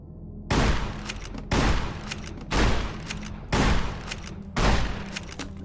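Sturdy caravan shotgun firing in Fallout New Vegas: five loud, evenly spaced blasts about a second apart, each with a sharp attack and a short decaying tail, over a low steady hum.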